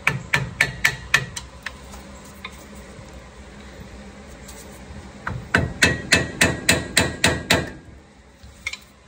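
A hammer drives a new cotter pin into the upper ball joint of a 2003–2015 Nissan Titan, first a quick burst of sharp metallic taps, then a pause with a few stray knocks, then another rapid run of about a dozen ringing strikes.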